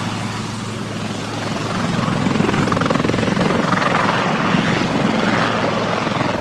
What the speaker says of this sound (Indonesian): Lihat, teman-teman, ada Airbus helikopter. Ini punya angkatan laut.